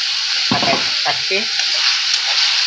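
Ginger garlic water hits a hot pan of cowpea and potato curry and sizzles loudly in a continuous, close hiss, with a voice speaking briefly early on.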